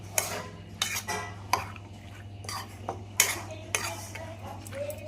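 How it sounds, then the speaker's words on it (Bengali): A spoon mixing diet breakfast ingredients with beet salt and chaat masala in a bowl, with sharp clinks and scrapes at irregular intervals over a low steady hum, close and fairly quiet. "এবার এগুলো সব মিশিয়ে নেব।"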